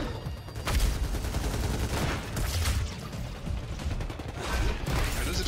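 Dense gunfire from the video game Evolve, weapons shooting through walls, with loud overlapping bursts and booms, rapid and sustained, close up and filling the whole stretch without talk.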